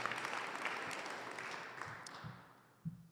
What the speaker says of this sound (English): So another round of applause for these guys.